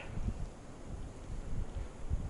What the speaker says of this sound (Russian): Ветер тут вообще ужасный.